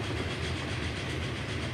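A train rolls past in the video game Transport Fever 2, a dense steady rumble with a faint clickety-clack rhythm, loud and close throughout this short moment.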